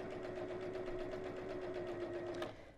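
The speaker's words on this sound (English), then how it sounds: "When you come up to the point, stop with the needle down, turn around and carry on sewing" A sewing machine stitches through the thick fabric of an evening bag flap, giving a fast, even mechanical whir with a rapid needle pulse, quiet and close, before slowing at the end.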